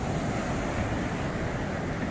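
Waves from the Laguna de Tamiahua lagoon wash steadily onto a dark-sand beach at La Ribera, Tampico Alto, Veracruz, a continuous near rush of surf mixed with wind buffeting the microphone.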